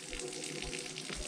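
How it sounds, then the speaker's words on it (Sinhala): Mountain water runs down from the hillside at a Gale Kanda campsite near Gampola, Sri Lanka, making a steady, close, continuous rushing and trickling for the whole brief moment. "හොඳයි හොඳයි කන්දෙන් එන වතුර"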